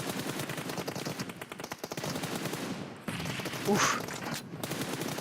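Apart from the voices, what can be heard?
automatic gunfire spray in the video game PUBG Mobile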